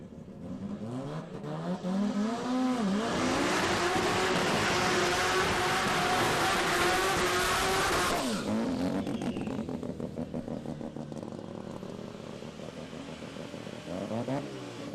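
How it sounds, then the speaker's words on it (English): Turbocharged 13B rotary-powered outlaw nitro funny car doing a long burnout at a drag strip, a loud roaring scream that builds, holds for several seconds, then fades as the engine drops off. "Nice big strong burnout again from the main man from CQ Rotary."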